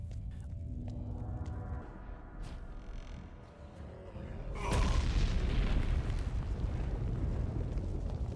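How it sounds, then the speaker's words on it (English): A Meteor spell from the game Gothic 3 lands with a loud, deep booming explosion that sets off a sustained rumbling roar, preceded by a few seconds of lower ambient rumble. "Meteor calls down a meteor from the sky, dealing massive area damage."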